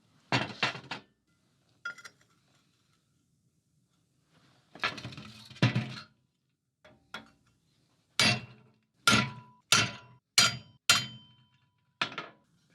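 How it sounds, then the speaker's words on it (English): Sharp metallic hammer blows on a rivet ring out in short bursts, a few early strikes and then a steady series of about eight evenly spaced, loud, close taps. "so I can use this and set the rivet with a hammer"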